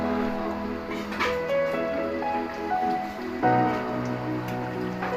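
Boiled water is poured into a cooking vessel for chicken curry, a continuous splashing pour whose pitch rises steadily as the vessel fills, close and clear.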